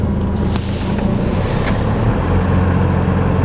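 A 2013 Ford F-series rear-wheel-drive pickup idles steadily with a loud, low, even engine rumble heard up close and no talking.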